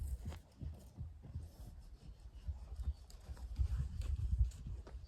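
A horse walks up to a person on the ground, its hooves landing in soft irregular thuds close by, with shuffling and low rumbles in between and no talking.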